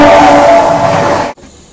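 A passing train rushes by loudly and close in a broad roaring wash of noise on a Bharat Gaurav AC Deluxe tourist train journey in North East India, then cuts off abruptly into near silence.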